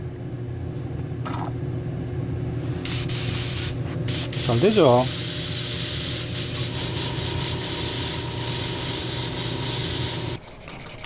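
A repaired airbrush sprays a loud, steady hiss of air close by, with brief clicks and a short squeak midway, before cutting off near the end; someone speaks briefly over it.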